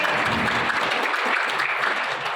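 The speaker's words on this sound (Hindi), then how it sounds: "आप उनके सम्मान में तालियों की गड़गड़ाहट से आप उनका सम्मान करें" Continuous applause from a large audience at a political gathering of the Kshatriya community, honouring a national president; dense, steady clapping without pauses across the whole stretch, loud and close.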